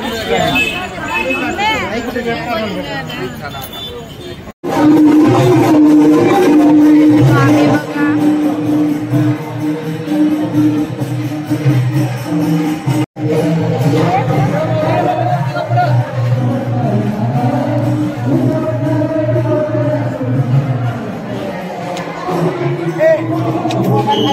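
Dense crowd at the Akkalkot Swami Samarth festival, a loud continuous babble of many voices with music-like tones running through it, and a nearby person speaking over it.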